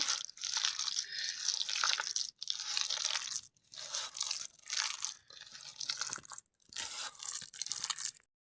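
Raw chicken being kneaded and mixed by hand with turmeric and spices, giving bursts of wet, squishy crunching in close, loud clumps separated by short pauses, with no talking.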